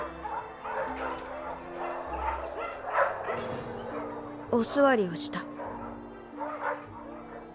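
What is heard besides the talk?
dogs barking in a noisy dog pound, film scene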